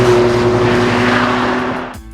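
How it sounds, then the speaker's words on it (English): Porsche 911 flat-six engine growling loudly and close at first, with a steady droning note that then fades and cuts away near the end. "it does still have that trademark Porsche growl"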